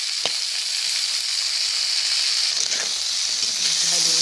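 Chicken feet adobo with bay leaves and black pepper sizzles steadily in a pan while being stirred, a continuous frying hiss with a few scraping strokes, close and fairly loud.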